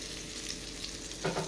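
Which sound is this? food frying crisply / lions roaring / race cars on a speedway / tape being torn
food frying crisply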